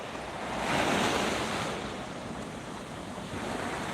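Ocean waves and swell wash ashore on Holetown Beach in Barbados at sunrise, a continuous broad surf roar that swells early then settles, with wind buffeting the microphone and no talking.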